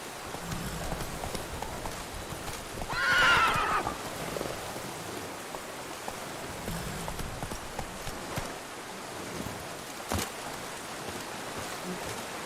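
Roach the horse in The Witcher 3 lets out one clear neigh, with hooves clip-clopping throughout and a steady wash of rain behind the trotting.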